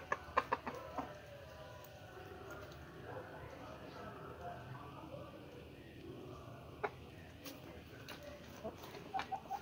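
Backyard chickens cluck softly and intermittently in a home garden, fairly faint and a little distant, while a person talks over them throughout.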